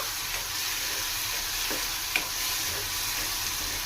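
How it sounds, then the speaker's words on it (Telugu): Prawns frying with curry leaves in oil over a medium flame, Andhra style: a steady, close sizzle with the occasional stir, and no talking. "ఈ రొయ్యలు మొత్తం ఇందులో ఈ ఆయిల్లో యాడ్ చేసుకొని మీడియం ఫ్లేమ్ మీద ఫ్రై చేసుకుందాం."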